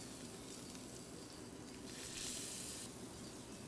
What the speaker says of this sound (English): we're gonna stick the scallop straight on to get that nice sear going